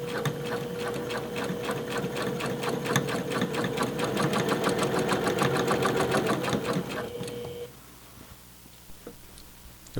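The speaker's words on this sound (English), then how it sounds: "I'm just going to continue to sew around and finish up the basting stitches" A sewing machine runs basting stitches through flannel for pajama pants with a fast, steady mechanical rattle, close and continuous, then stops near the end, leaving quiet handling noise.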